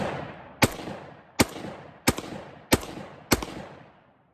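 Zastava M90 rifle firing from a Galil magazine: five loud, separate gunshots spaced under a second apart, each with a short echoing tail, outdoors and with no talk.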